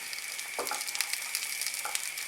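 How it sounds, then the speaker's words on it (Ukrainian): Oil sizzles steadily in a pan as pancakes fry, a bright continuous crackle with a few soft scraping touches. "ми їх будемо обсмажувати на пательні з олією"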